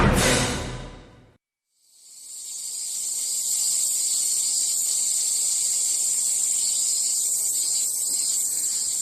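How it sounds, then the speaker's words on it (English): A dense chorus of many cicadas singing together in Korea, a loud, steady high-pitched shrill drone that rises after a short silence and holds unbroken, preceded by a brief rushing burst. "That is the sound of many cicadas singing together"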